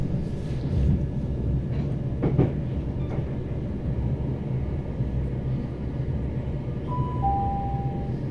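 A Southern passenger train travels from Victoria towards Battersea Park, a steady low rumble of wheels and motors throughout, with a couple of brief clanks and a faint high tone near the end, heard from inside the carriage.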